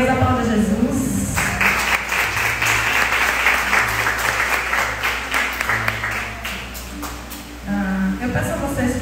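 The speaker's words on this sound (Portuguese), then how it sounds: "Glória a Deus, aplauda Jesus." A church congregation breaks into dense, sustained applause that swells for several seconds before fading, with voices speaking over it at the start and end.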